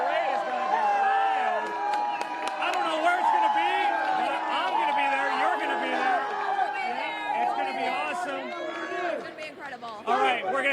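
A packed stadium crowd roars and cheers over the Houston Astros' World Series win, a dense, loud, continuous wall of shouting, whoops and chatter with scattered clapping, held at full intensity throughout.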